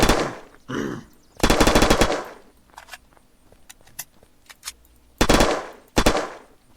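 Machine gun fire in the video game Unturned: several loud, close bursts of rapid automatic shots separated by quieter gaps holding a few single clicks and small mechanical sounds.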